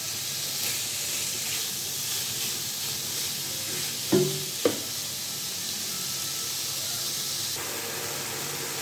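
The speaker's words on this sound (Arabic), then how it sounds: "غادي نحاولوا باش نقليو الدجاج" Chicken breast fries in a pan with a steady, even sizzle and hiss throughout, broken by two short clanks of a utensil near the middle.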